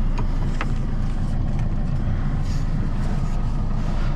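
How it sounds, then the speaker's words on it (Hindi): A Tata Xenon's DICOR diesel engine gives a deep, steady rumble throughout, loud and close, with a constant low drone and no pauses or speech. "टिपिकल डाइकॉर इंजन की आवाज़,"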